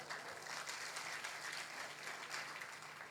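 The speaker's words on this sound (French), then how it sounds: "Applaudissez pour vous-même." An audience at a French Bible talk claps together in a steady, dense round of applause, soft and somewhat distant, holding for several seconds.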